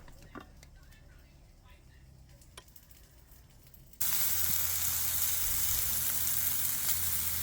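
Smoked Portuguese sausage rounds fry in a pan over medium heat, fat rendering; after a quiet start, a loud, steady, close sizzle suddenly takes over and holds to the end.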